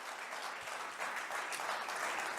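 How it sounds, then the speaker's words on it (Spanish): A church congregation gives God steady, continuous applause, a soft dense patter of many hands that stays even for a couple of seconds, heard at some distance. "Fuertes aplausos a nuestro Dios."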